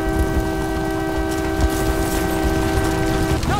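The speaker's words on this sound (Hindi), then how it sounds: "ओए हॉर्न बंद कर, बोला ना।" A steady, loud train horn blares from Call of Duty: Modern Warfare 3, a sustained chord of tones holding unbroken over low rumble for several seconds before cutting off.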